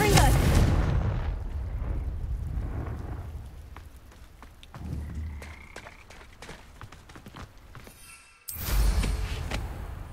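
A Confringo fire spell detonates in the Hogwarts Legacy video game, with loud booming blasts at the start and near the end and a low rumbling hiss between them.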